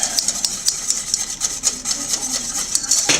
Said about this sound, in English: Basically you're going to whisk this together so everything's combined